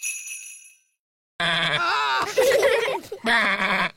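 A cartoon sheep bleats in a voiced, imitated 'baa', with an earlier faint high tone. After a brief silence come two loud, wavering bleat-like calls, close and alone.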